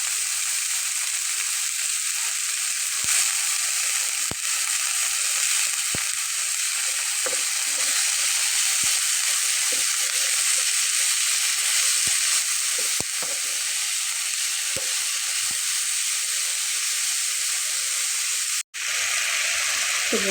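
Potato pieces fry in oil in a pan for an evening snack, producing a loud, continuous, even sizzle with faint occasional clicks and a brief dropout near the end; no voice is present.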